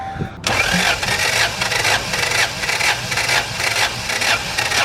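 An engine cranks over with the ignition switch off during a compression test. It gives a close, loud, rhythmic whirring chug with even repeating pulses for about four and a half seconds.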